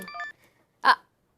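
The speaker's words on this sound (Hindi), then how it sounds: "अरे बहुरिया के वीडियो कॉल" A phone rings with an incoming video call in an Indian home setting: a short electronic ringtone with steady stacked tones, then a pause and one brighter burst, loud and close, with no talk.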